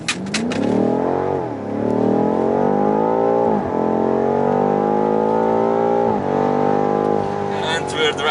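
A 2019 BMW M5 accelerating at full throttle: a loud engine roar climbs steadily in pitch through several gear changes, each marked by a brief dip before the engine revs up again. Heard from inside the car.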